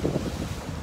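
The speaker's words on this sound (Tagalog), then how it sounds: "Medyo busog na ang hangin yutay." Strong wind from Typhoon Ambo blows along the shore at Naval, roaring steadily into the microphone and buffeting it in gusts, with possible sea noise underneath and no talk.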